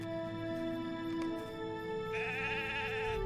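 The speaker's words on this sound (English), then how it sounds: "Clearly panicked, sheep darted out of the pen towards the northwest." Sheep bleat in the fantasy online game LOTRO, a steady wavering animal cry over a droning musical score, with a second higher bleat joining partway through, loud and close.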